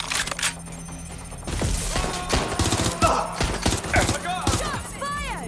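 Gunfire in the video game Watch Dogs: Legion, loud rapid bursts of shots and sharp cracks with game effects, mixed under shouted voices.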